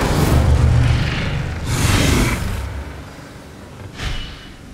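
Spell effects from the Hogwarts Legacy video game land as heavy booming whooshes, a loud deep blast at the start, a second surge shortly after, and a smaller burst near the end.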